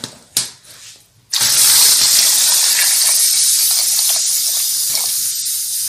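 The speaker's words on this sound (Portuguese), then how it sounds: "Vou pôr um pouco de água." Water gushes steadily and loudly into a pot of soaked chickpeas and meat for Moroccan harira soup, after a few brief clunks, and keeps pouring for several seconds.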